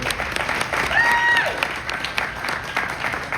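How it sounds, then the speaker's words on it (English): Audience applause for singer-songwriters at a live forum in Des Moines, a short burst of steady clapping from a crowd, moderately loud and close. "Big round of applause for them before we get into it."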